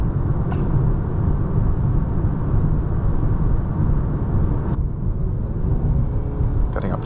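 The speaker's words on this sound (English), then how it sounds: "Getting up to speed there in eco mode" Interior of a 2026 Nissan Sentra SR gaining speed in eco mode: a steady low engine and road rumble, even in loudness throughout, with a couple of faint clicks.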